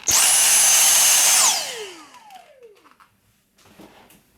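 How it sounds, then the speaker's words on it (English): A small vacuum cleaner sucks up debris from a drilled hole on an HO scale model railway layout: a loud, high whine for about a second and a half, then the motor winds down with a falling pitch and fades out. "take our vacuum and suck up the blood"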